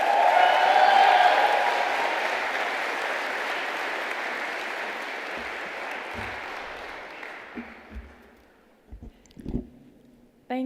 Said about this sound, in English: can we usher her to the podium with a very youthful round of applause, Sis Tobeka.